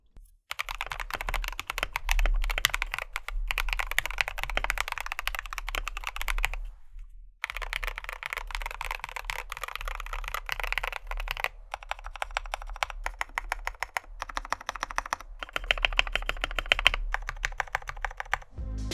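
Close-up typing on a mechanical keyboard with lubed Gateron Yellow Milky Top switches, dense, smooth keystrokes in continuous runs with a brief pause, softer and deeper-toned clacks.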